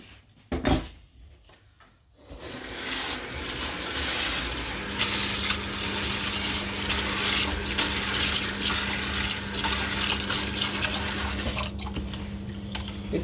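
Water runs steadily from a tap into a sink while rice is washed under it for several seconds, with a few knocks and a brief splash near the start.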